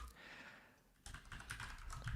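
Computer keyboard typing during a live coding session, a quiet patch giving way to steady, fairly close key clatter in the second half, with no talking.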